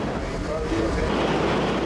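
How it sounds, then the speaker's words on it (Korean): A ship's huge main engine runs during a sea trial at about 104 RPM, a steady dense broadband roar with heavy low rumble, continuous and loud throughout. "엔진 소리가 경쾌하다"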